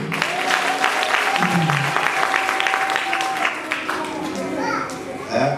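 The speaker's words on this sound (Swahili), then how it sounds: "Pigie Bwana makofi na vigelegele kama mimi" Church congregation clapping and ululating during a lamp-lighting service, a dense, steady wash of crowd applause and high trilling voices with a preacher's voice and a sustained tone over it.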